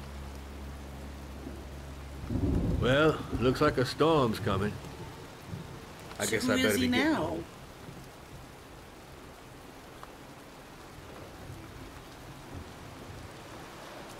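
Steady rain and storm ambience from the video game Heavy Rain, a soft continuous wash running the whole time, with two short bursts of speech near the start sitting over it.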